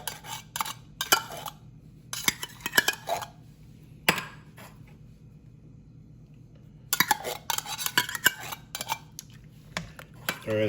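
A spoon scrapes and clinks against a pot while tomato sauce and garbanzos are stirred into a pasteles filling, with irregular metallic taps and scrapes in bursts and a short quieter pause midway, under a low steady kitchen hum.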